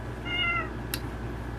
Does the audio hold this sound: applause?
no